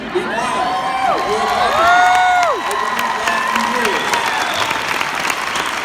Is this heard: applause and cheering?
yes